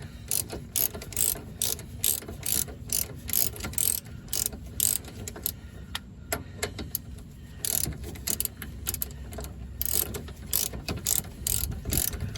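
A hand ratchet loosens a tie rod end on a classic Mercedes (W126, W124 or W123), giving rapid bursts of close, sharp pawl clicks in repeated strokes with short pauses between.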